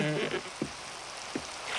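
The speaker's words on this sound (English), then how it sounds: "I don't mind a bit of rain." Steady rain falls outdoors by a river near Oxford, a dense, even hiss that fills the whole moment, with a few brief faint voice fragments and soft thuds underneath.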